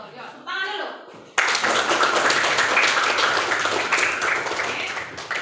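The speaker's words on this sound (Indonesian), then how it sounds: "Ya, tepuk tangan dulu." A class of students breaks into applause in a coding lesson, a sudden burst of many hands clapping that stays loud and dense for several seconds, following a brief bit of talk at the start.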